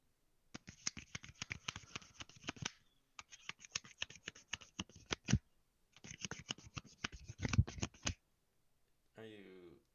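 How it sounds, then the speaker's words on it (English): A deck of playing cards being shuffled close up, three bursts of rapid crisp riffling patter separated by short pauses, followed by a brief voice at the end. "That was the sound of me shuffling cards."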